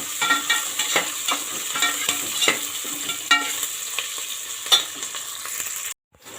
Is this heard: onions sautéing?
yes